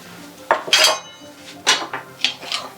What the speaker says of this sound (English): And then I'll now put my onions in there